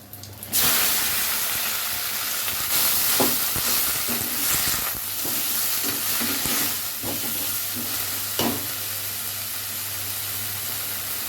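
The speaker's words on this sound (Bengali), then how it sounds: "এবার চিংড়ি মাছের মাথাগুলো দিয়ে দেবো।" Prawn heads fry in hot oil in a wok, flavoured with nigella seeds, dry chilli and garlic, giving a steady close sizzle and hiss with repeated scraping stirs throughout.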